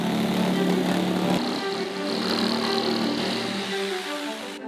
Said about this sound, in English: with the help of a jigsaw, we cut out the bottom of our giant bucket